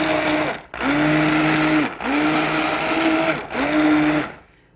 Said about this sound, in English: The next step is to carefully blend the mixture with an immersion blender.